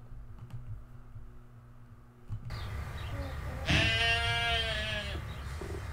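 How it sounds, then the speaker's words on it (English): A sheep bleating once, fairly loud and close, after a quieter stretch with a low steady hum. "A sheep."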